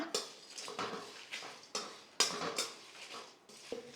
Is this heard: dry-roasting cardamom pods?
yes